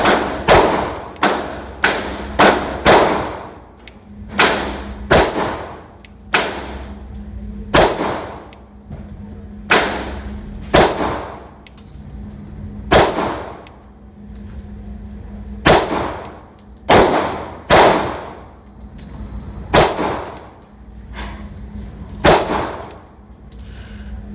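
Glock pistol with a new trigger fired at 30 feet on a range: ten sharp, loud reports with metallic ring, spaced unevenly, some in quick pairs, others with longer gaps, all alone without talking.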